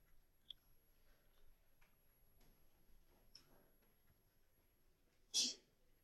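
A single sharp, loud sneeze bursts out near the end, following several seconds of quiet classroom noise with faint ticks and breathing.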